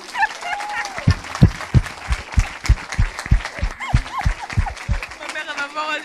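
A church congregation in Evry claps in a steady, rhythmic beat, with loud, close hand claps over a busy hum of voices and scattered cheers throughout.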